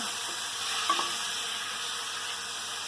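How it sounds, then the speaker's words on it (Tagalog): Mixed seafood sautés in a pan for a ginataang kalabasa at sitaw dish, giving a steady close sizzle throughout with a brief stirring scrape near the start. "mixed seafood po yan. Isutay po natin siya ng konti."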